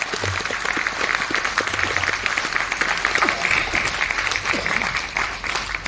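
A large audience at a motivational seminar bursts into loud, sustained applause, dense clapping filling the hall evenly from start to finish with no pause.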